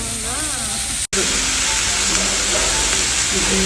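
Steak sizzling on a hot iron plate at an Ikinari Steak restaurant in Japan, a steady close hiss and crackle of frying fat throughout, briefly cut once, with light talk underneath.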